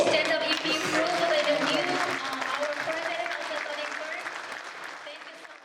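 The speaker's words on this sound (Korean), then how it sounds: "찬성하시고 인준에 동의하시는 분들은 정중 일어나셔서 큰 박수로서" A standing crowd at a Korean association meeting gives loud sustained applause approving its new president, starting strong and slowly tapering off, with some talk mixed in.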